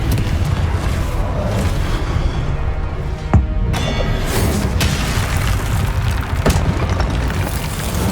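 Confringo fire-spell blasts in the Hogwarts Legacy video game: a dense, loud, continuous roar of booming explosions and crackling debris, with a sharper impact standing out partway through.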